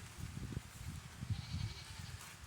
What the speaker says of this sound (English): I don't know if you guys can hear the goats in the background